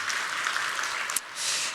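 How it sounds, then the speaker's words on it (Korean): Applause from a church congregation at a faith-training graduation ceremony, honoring the training teachers: a steady, fairly quiet wash of many hands clapping with no voices on top. "우리 모든 훈련 교사들께 다시 한번 큰 박수 한번 드리면 좋겠습니다"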